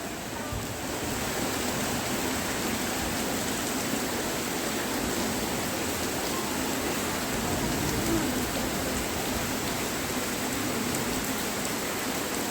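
Heavy, nonstop rain pours down on a flooded street in Kondapalli, Vijayawada, as a dense, steady roar with no breaks, broad and close.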